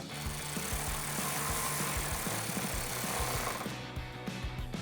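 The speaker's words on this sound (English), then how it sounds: "secure the top two using the factory hardware and a 10mm socket" A 10mm socket tightens factory bolts on the bumper of a 2016-2021 Tacoma. A continuous, rapidly pulsing mechanical buzz with a rattling texture holds close and steady for about five seconds, with no speech.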